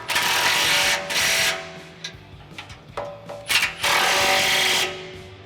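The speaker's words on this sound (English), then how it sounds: "at the end is my impact, and we're just going to tighten these up" Impact wrench with a 5/8 socket on a universal swivel tightening front bumper bolts on a Jeep Wrangler JK, several loud rapid hammering bursts separated by short pauses and small clicks.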